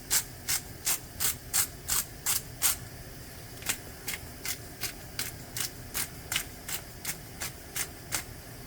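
Salt and pepper ground by hand into a one-pot bolognese, a run of crisp ratcheting clicks in quick bursts, close and clear, a fast cluster first, then a pause and a second steadier series of twists.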